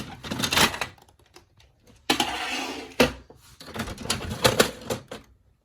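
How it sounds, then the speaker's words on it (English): Paper being loaded into an Epson WorkForce Pro WF-4830 printer makes a string of close plastic clicks, rustles and sliding clatters in uneven bursts, with short quiet gaps and a few sharper snaps. "In the meantime, I'm gonna load in the paper"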